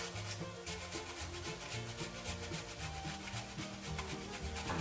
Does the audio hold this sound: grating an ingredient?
yes